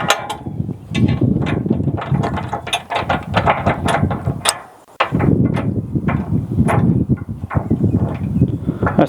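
Bolts being tightened on an ArmorDillo hood guard for a Kubota SVL97-3 track loader: a loud, steady run of ratchet clicks with sharp metallic ticks, close up and continuous, breaking off for a brief pause midway before resuming.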